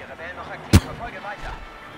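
A single loud blaster or gunshot blast in Star Wars Battlefront, one sharp burst over game background sounds, with a voice talking quietly around it.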